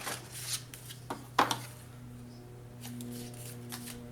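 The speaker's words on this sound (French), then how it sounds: "Je vais plier mes 2 plis." Paper is folded for a scrapbook album: a few crisp, quiet crinkles and one sharp creasing rustle, followed by soft handling noises.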